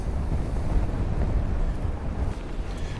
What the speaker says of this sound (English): it's getting proper windy now. Proper windy here.